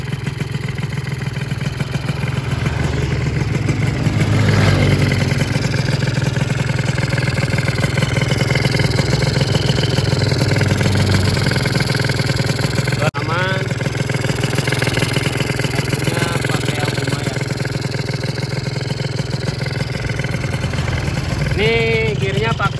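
A Yamaha FIZR 125 motorcycle engine runs during its first run-in to seat the piston, a dense steady mechanical drone with small rises in revs, close up over continuous background noise.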